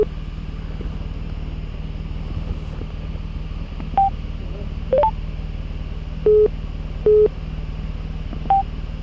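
Electronic phone ringing or dial tones chirp through a motorcycle helmet intercom, several short beeps spaced over a steady engine and wind drone, while collecting a Suzuki DL800RE V-Strom at a motorcycle dealer.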